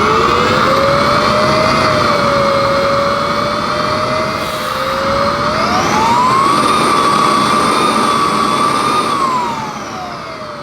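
A Samsung Powerstick Pro VS8000 cordless vacuum runs loud and close with its end blocked, a strained whine that rises in pitch, holds, dips, then climbs higher again as the suction peaks, and no one speaks.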